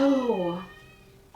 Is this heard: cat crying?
yes